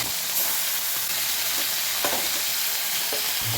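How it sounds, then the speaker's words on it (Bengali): Pomfret fish frying in hot oil in a pan, a loud, steady, close sizzle that continues unbroken with small crackles throughout. "বাকি মাছগুলোও একইভাবে ভেজে নেব।"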